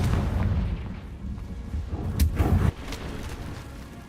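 Confringo blasting spell in Hogwarts Legacy, a burst of booming, crackling blasts with deep rumble, loud and close, peaking in a sharp hit before cutting off into lingering noise.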